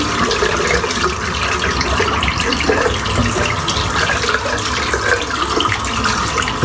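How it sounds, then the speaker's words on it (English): Tap water runs steadily into a sink while shaving soap is rinsed off a razor and synthetic brush, a continuous broadband splashing hiss with no pauses and no voices. "I'll just rinse the soap out"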